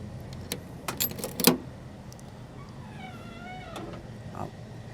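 Original keys of a 1972 Lincoln Continental MKIV jangle in a few brief metallic bursts near the start, then give way to quiet background sounds.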